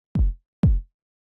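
Two dry, punchy techno kick drum hits in Detroit techno style, without saturation, each a short booming thump with a falling pitch, spaced about half a second apart and heard alone.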